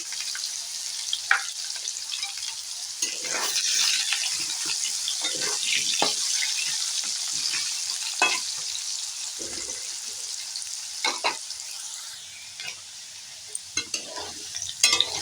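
Potato pieces with a little turmeric fry in oil in a pan, giving a soft, steady sizzle broken by repeated scraping strokes from the stirring spoon.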